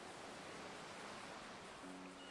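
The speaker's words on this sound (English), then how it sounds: "I know the waves part of what I'm hearing is real" Steady ocean surf washes continuously in GTA V roleplay on a NoPixel server, a soft broadband roll of waves that stays faint and even throughout with no talking.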